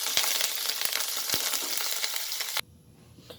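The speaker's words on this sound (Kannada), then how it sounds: "ಕರಿಬೇವು ಎಲೆ, ಹಸಿಮೆಣಸಿನಕಾಯಿ, ಗ್ರೀನ್ ಚಿಲ್ಲಿ ಎಲ್ಲ ಸ್ವಲ್ಪ ಫ್ರೈ ಆಗಲಿ" Curry leaves and green chillies fry in a pan for a cabbage palya, giving a loud, dense sizzle with a few sharp clicks that drops abruptly to a much quieter hiss near the end.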